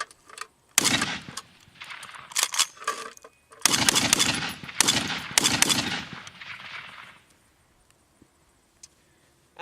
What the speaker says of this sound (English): I will now demonstrate the fire rate of the weapon.